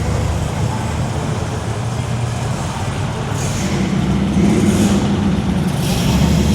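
Several supercars rev at close range, with one lighting up its tires, producing a loud continuous engine roar and a rising rumble that swells toward the end under crowd and background noise.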